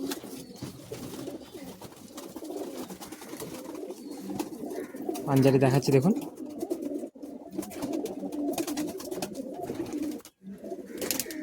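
Pigeons coo softly in a loft, a louder throaty burst in the middle, and someone talks at times through the cooing.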